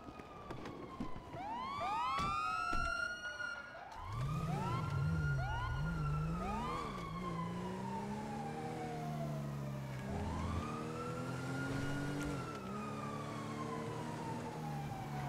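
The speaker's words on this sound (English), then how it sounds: "I saw the sirens, I was worried." Police car sirens wail in GTA V, several sweeping tones overlapping and rising and falling over about fifteen seconds, with an engine revving underneath.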